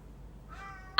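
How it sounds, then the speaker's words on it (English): A house cat meows impatiently for its lunch while waiting on an automatic feeder indoors, a thin drawn-out cry midway that ends in one sharp, louder meow close to the microphone. "it is 8 minutes until my cat's automatic feeder gives him his lunch, and he is not happy about it"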